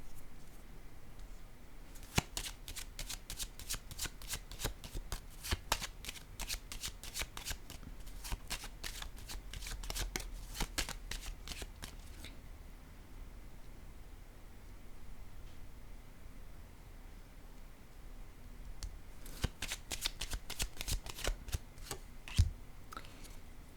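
Playing or tarot cards being shuffled in bursts of fast crisp riffling, close by and quiet, with pauses between rounds of shuffling.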